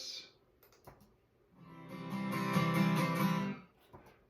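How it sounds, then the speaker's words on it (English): Multi-tracked guitars with added production effects swell in gradually and sustain loudly as a rich harmonic chord wash, then fade out, with a few faint clicks beforehand. "So I just recorded these guitars and I added some kind of production to them"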